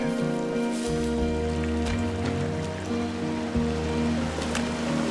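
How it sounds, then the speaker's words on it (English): A waterfall in the video game Firewatch gives a steady, close rush of falling water, heard under sustained tonal game music. "It's a really nice waterfall down here."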